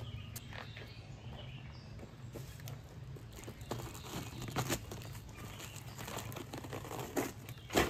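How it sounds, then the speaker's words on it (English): A parts package for a DIY jet boat build being cut open and unwrapped, with soft crinkling and tearing of packaging in irregular bursts, close and fairly quiet over a low steady background hum. "let's get to cutting the rest of this package open"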